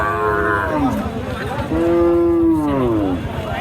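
A dairy cow with her calf moos at a rural cattle market, giving two long, loud, close lowing calls that slide in pitch, with faint crowd noise beneath.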